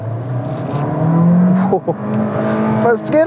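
Engine note of a Skoda Kushaq Monte Carlo with a 1.5 TSI turbo petrol engine, rising steadily as the car accelerates hard in first gear, heard from inside the cabin and fairly loud throughout.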